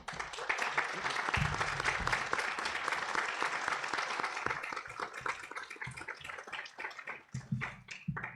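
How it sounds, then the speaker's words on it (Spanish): Audience applause welcoming a speaker at a talk on education in Cuba, dense clapping from a sizable crowd that stays strong, then thins to scattered claps near the end. "les pediría otro aplauso de bienvenida"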